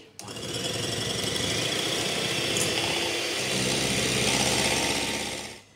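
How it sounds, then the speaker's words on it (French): An electric mixer whisks chilled cream in a bowl, a continuous loud buzzing motor whir with rattling beaters that shifts slightly in pitch partway through and runs for nearly six seconds. "J'ai mis la crème dans un saladier. Je l'ai préalablement mise au congélateur avant et je vais la fouetter."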